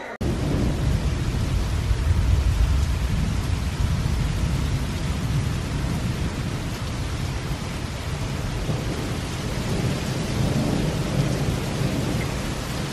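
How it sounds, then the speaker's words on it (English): Heavy rain pours steadily through the night with low rumbles of thunder rolling underneath, a dense, continuous wash of sound with no voices. "It is absolutely pouring outside. It's been raining really, really hard all night long."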